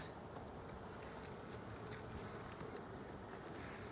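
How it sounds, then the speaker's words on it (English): Honeybees buzz inside an open beehive with plastic frames, a steady, soft, dense hum filling the whole moment without talk. "Look at all them bees in there."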